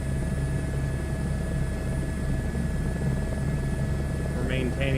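H125 helicopter cruising at 90 knots in a flight simulator game, a steady loud droning rotor and turbine hum that runs unbroken throughout, with a short electronic chirp near the end.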